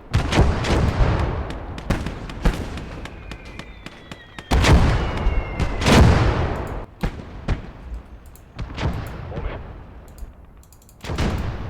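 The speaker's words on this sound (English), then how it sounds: "That's the gas tanks going up." Gas tanks exploding during a battle, heard as loud blasts and booming impacts amid repeated gunfire and artillery across a continuous, chaotic soundscape.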